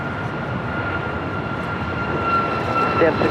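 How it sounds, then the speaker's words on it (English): A United Airlines Boeing 737 MAX 8 bound for Tampa takes off from the south side at LAX, its engines a steady broad roar with a faint whine, rising slightly toward the end. "United Airlines Flight 279 heading to Tampa, Florida, 737 MAX 8. Next takeoff here on the south side."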